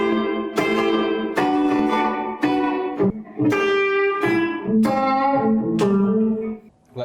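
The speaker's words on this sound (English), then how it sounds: "I'm running my guitar through Valhalla, Vintage Verb. I've got a plate preset that I quite like, and then I'm running that through my pedal board, which is just a chorus pedal" Electric guitar run through a plate reverb preset in Valhalla Vintage Verb and a chorus pedal, playing a sequence of sustained, shimmering chords with lush washing tails, loud and close, with no talking.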